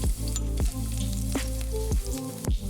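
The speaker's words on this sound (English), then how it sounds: "now we're going to fry 3 cloves of finely sliced garlic" Finely sliced garlic fries in vegetable oil in a wok over medium heat, giving a steady loud sizzle broken by regular scraping stirs about every half second.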